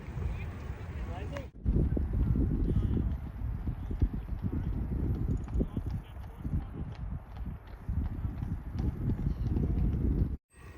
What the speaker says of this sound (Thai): มีคนขี่ม้าด้วย